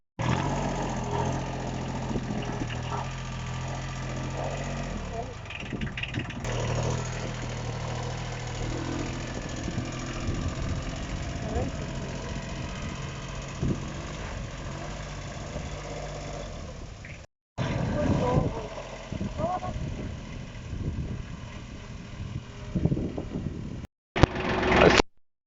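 A small tractor engine runs steadily while driving, with a continuous mid-pitched drone, some knocking vibration and rattling, briefly cut out twice near the end.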